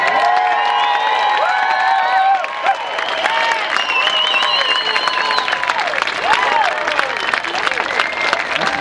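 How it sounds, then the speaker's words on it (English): Loud crowd applause and cheering break out at a blues festival award presentation, with whoops and shouted voices riding over continuous clapping throughout. "Let's give a great big round of applause for John McKinley."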